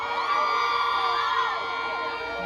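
A live crowd cheers and whoops at a music event, a dense continuous roar with shouting voices holding steady throughout.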